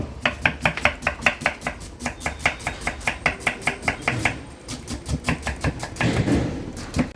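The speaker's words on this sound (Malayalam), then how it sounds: "ചേരുവകളൊക്കെ ഇങ്ങനെ കട്ട് ചെയ്ത് ഓരോ ഐറ്റംസ് റെഡിയാക്കി വെച്ചു" Rapid, steady knife chops on a cutting board, a long run of sharp close taps with a brief pause partway through.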